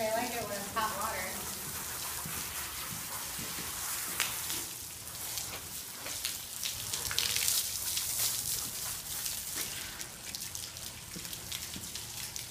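Hot water runs and splashes steadily during a dog's bath, a continuous close hiss of spray with irregular spattering, lasting throughout with faint voices now and then.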